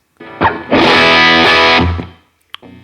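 Electric guitar through a Fuchs Plush Cerberus overdrive pedal on its Fender setting, both tones near three o'clock, output maxed and input gain around one o'clock: a brief distorted note, then a loud sustained chord ringing about a second before fading, with a short pick attack after.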